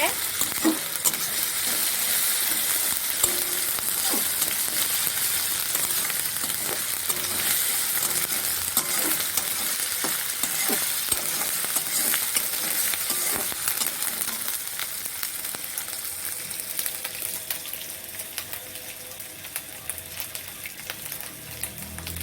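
Garlic and ginger paste sizzle and fry in hot oil while being stirred, a steady close hiss with frequent scraping and tapping of the spoon against the pan for the full stretch.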